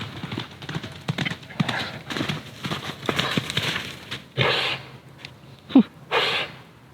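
A horse's hooves clip-clop in a steady run, with a few sharp snorting breaths bursting out near the end.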